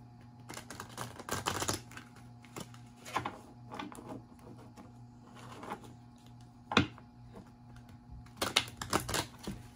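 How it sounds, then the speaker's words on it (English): Tarot cards are shuffled by hand in irregular bursts of crisp, papery riffling and tapping, close and moderately loud, with brief pauses between each flurry and no talking. "To shuffle again."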